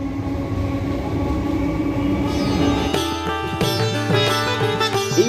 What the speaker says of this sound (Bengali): আর পাশেই দেখো একটা ব্রিজ রয়েছে, এর উপর থেকে কিন্তু ট্রেন যায়।